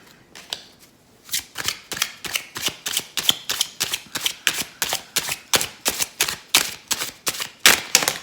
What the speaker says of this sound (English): It's hard when you're shuffling this many cards.